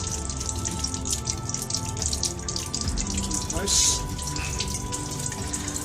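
Water trickles steadily inside an old 1700s mine tunnel, a continuous close splashing and dripping with a brief spoken word over it.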